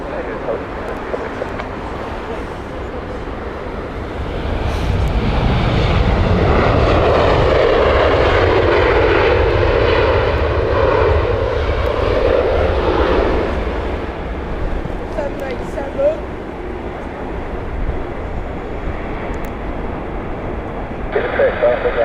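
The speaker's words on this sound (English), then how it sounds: "Coming up on final here is the Dusseldorf flight from British Airways" British Airways airliner inbound from Dusseldorf on final approach to Heathrow, its engine roar swelling loud overhead mid-clip then fading to a distant rumble amid background murmur.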